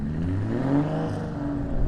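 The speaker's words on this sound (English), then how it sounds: "How cool is it hearing those cars warm up in the background, man?" Drift cars idling and revving as they warm up, a steady low engine drone with slight rises in pitch, moderately distant and continuous without speech.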